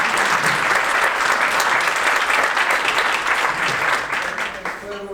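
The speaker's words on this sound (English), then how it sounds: "but first of all, a round of applause." A room full of people at a marketing and sponsorship talk bursts into loud, dense applause that holds steady for several seconds, then tapers off as a voice starts speaking at the very end.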